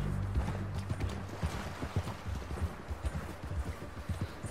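Horse hooves galloping in the Red Dead Redemption 2 video game, a fast rhythmic clip-clop of repeated hoofbeats running steadily at moderate distance over a low rumbling background.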